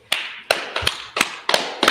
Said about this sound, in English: Just clap it up